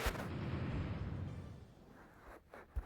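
Artillery fire in the strategy game European War 4, a rolling burst of booming cannon blasts that fades out, followed by a couple of sharper, quieter shots near the end.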